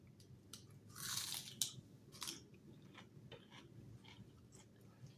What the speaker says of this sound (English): Crunching away for you like a maniac